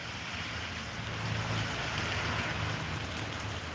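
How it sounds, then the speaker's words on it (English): Rain falls steadily outdoors as a dense, even hiss of drops on surfaces, constant and fairly close, with a faint low rumble beneath and no talking. "we're waiting for the rain to go away so we can get out here"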